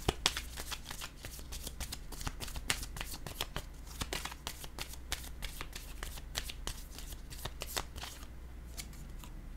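Tarot cards are shuffled by hand in quick, crisp riffles and slaps, a dense run of sharp papery snaps repeating steadily and close up throughout.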